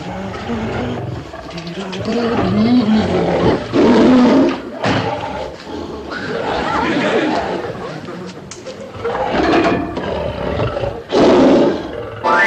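Deep rumbling lion roars rising and falling over several seconds, mixed with voices and crowd chatter, loud and close.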